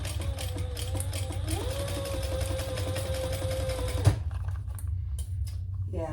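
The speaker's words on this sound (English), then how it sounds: "we're gonna sew that with the seam allowance in the pattern" Sewing machine stitching a crossbody bag's exterior to its gusset, a steady close whir that rises in speed midway and stops abruptly, followed by quiet handling sounds.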